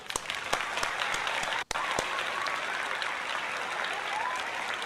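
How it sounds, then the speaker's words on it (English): Stadium crowd at a Phillies versus Padres baseball game applauding steadily and loudly for about five seconds, a dense sustained wash of clapping with a brief dropout partway through. "Let's give Jason a round of applause."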